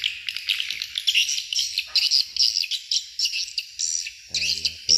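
A tweeter speaker on a swiftlet bird house plays a swiftlet call: rapid, shrill chirps and twitters repeating in quick bursts. A brief low voice-like sound appears near the end.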